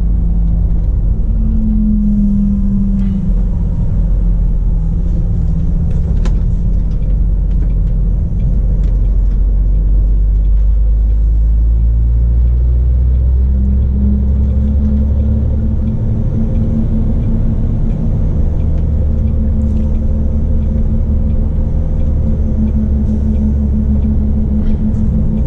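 A diesel vehicle drives along the road, heard as a steady, loud low engine drone and road rumble, with the engine tone shifting as it changes speed.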